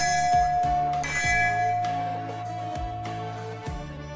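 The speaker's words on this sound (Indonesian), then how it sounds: "bunyi lonceng menandakan siswa harus masuk kelas" An electronic school bell at a village senior high school rings on a Saturday morning to call students into class: a string of steady chime tones struck every half second or so, clear and sustained in an otherwise quiet schoolyard.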